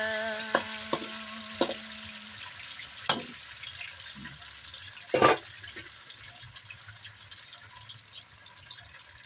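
Tofu sizzles steadily in a pan as it fries toward golden brown, a soft constant hiss broken by a few sharp clinks and one louder scrape from stirring.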